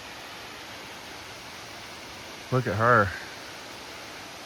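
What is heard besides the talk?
waterfall along a hiking trail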